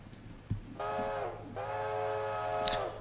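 A steam locomotive whistle in the video game Railroader, heard on a 460 engine, sounds two sustained chime blasts, the first shorter, the second longer, loud and close with no talk.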